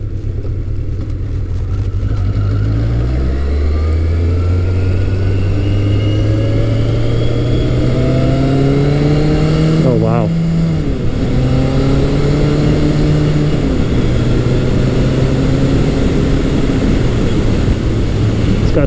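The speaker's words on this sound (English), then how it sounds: "I'm letting the bike warm up the temperature right now." A Yamaha FJ1200 motorcycle engine warming up, a steady loud mid-pitched drone with rising and falling revs that swing sharply around the middle, continuous throughout with no talk.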